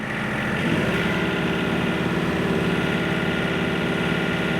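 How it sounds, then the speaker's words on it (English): A heavy John Deere tractor engine revs close by with a deep steady drone, climbing slightly in pitch early on and then holding a constant hum. "if I go ahead and rev the machine up"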